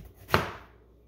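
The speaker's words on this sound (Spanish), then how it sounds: "Partiendo la sandía, partiendo la sandía para el agua que esté bien fría." A single firm knife chop through a juicy watermelon, a short crisp thud with a brief wet crackle, close up.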